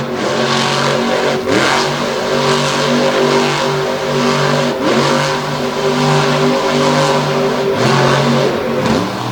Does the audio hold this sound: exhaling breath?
no